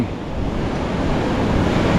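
Ocean surf at Pacific Beach, San Diego, a continuous broadband wash of breaking waves, loud and close, with wind noise and no voices.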